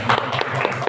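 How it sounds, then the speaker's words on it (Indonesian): Brief burst of applause from an audience at a PGRI teachers' association installation ceremony at a school in Panji, steady and fairly close clapping lasting under a second. "Tepuk tangan untuk IP."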